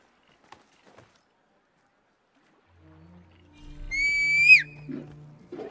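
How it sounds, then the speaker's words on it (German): A loud, rising whistle rings out in a short burst over Assassin's Creed Mirage game sounds and low rumbles, following a quiet stretch with a few faint taps. "Ja, der pfeift aber auch ganz schön laut hier."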